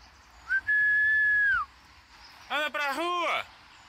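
A person whistles a long, sustained rising-then-held note, followed after a pause by a brighter, wavering whistled phrase that swoops downward, an inviting call-to-the-street whistle from a Portuguese piece, close and clear over a quiet background.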